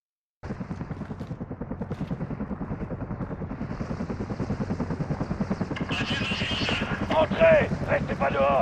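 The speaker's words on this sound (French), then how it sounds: "L'hélico est en train de vous cibler." A military helicopter in Call of Duty Modern Warfare, its rotor pulsing in a steady rapid chop that grows louder and closer, joined later by gunfire and shouting voices.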